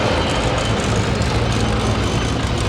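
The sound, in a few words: rally cars driving past, a Toyota first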